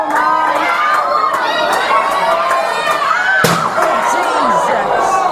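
Wrestling strike at a live UK wrestling show landing with one sharp, gunshot-like slam midway, set against loud crowd chatter and shouting, with a commentator talking throughout.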